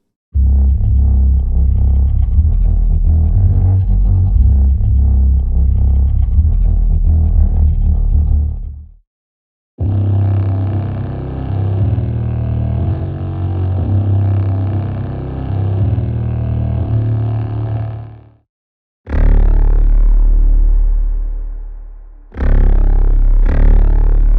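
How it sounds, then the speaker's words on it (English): Dark, distorted low synth drones swell and sustain in several separate sections, heavy and rumbling with gritty textures and abrupt cutoffs. "Low drones add subterranean tension to underscore your compositions."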